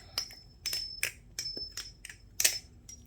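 An Alphabis Bali Plus balisong knife being flipped, giving a rapid series of about eight sharp metallic clicks and clunks in an uneven rhythm, close and fairly quiet with no talk.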